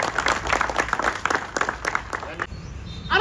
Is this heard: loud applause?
yes